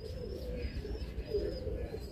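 Birmingham Roller pigeons coo softly and steadily in a loft, low murmuring calls blending with a continuous background hum.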